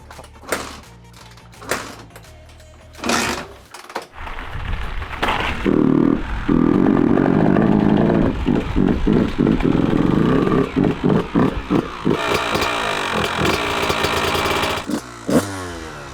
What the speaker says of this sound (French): Bon là c'est un gros moment les gars, ça va être le premier démarrage.